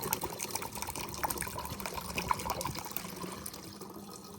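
Fresh coconut water from just-cut coconuts poured into a second bottle outdoors: a steady close trickling and gurgling stream of liquid runs continuously, with faint background noise and no talking.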